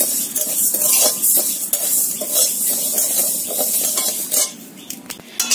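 Dry-roasted lentils (dal) stirred in a pan, with a spoon scraping and clinking against metal in quick, irregular strokes over a faint hiss, close and fairly loud.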